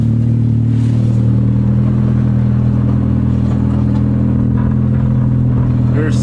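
A 1990 Honda Civic drives off in winter, its engine humming loudly and steadily up close with rattling clatter throughout.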